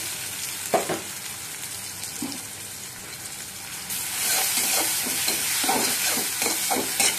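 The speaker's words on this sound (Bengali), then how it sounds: "পেঁয়াজ আমার ফ্রাই হয়ে গেছে" Onions fry in hot oil in a pan, a steady sizzle with a few scraping stirs early on, growing louder and denser with crackling bursts in the second half.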